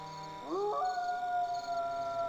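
Dogs in the fantasy role-playing game Siege of Avalon let out a rising howl that swoops up and holds a long, steady tone, fairly loud and alone for about two seconds.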